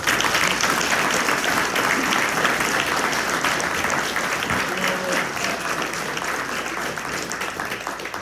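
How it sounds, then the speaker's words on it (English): Broad, continuous applause from an audience at a 2025 Ward 11 civic election forum for the candidates, a steady wash of clapping that stays loud and even throughout. "A round of applause"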